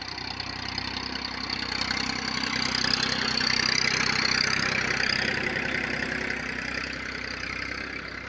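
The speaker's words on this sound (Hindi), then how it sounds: "ट्रैक्टर पे जो साइलेंसर है वो ओल्ड मॉडल का लगाया हुआ है, उस पर इसकी आवाज़ बहुत बढ़िया बन रही है" An old Massey Ferguson 1035 DI tractor fitted with an old-model silencer idles steadily close by, a continuous low diesel chug with a slight rise and fall in loudness and no talking.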